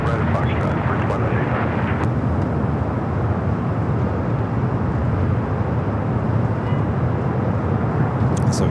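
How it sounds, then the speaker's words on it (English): Delta Boeing 767 touching down at Los Angeles International Airport, a steady, loud broadband jet roar with rumbling low end that fills the whole stretch without letting up. "So Delta 767 and just touching down there on the south side"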